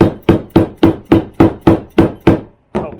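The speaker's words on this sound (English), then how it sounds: "This is a dead blow hammer from Harbor Freight that I glued a piece of suede on." A Harbor Freight dead blow hammer faced with glued-on suede taps a leather axe sheath: nine evenly spaced dull thuds in a steady rhythm, close and fairly loud, with a short pause before the last blow.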